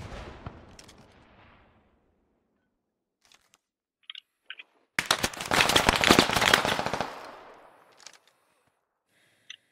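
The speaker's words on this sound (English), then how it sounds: "I don't know where shots came from." Gunfire in the military shooter Squad: a dense two-second burst of rapid, distant-sounding shots, with a few isolated cracks scattered before and after amid quiet.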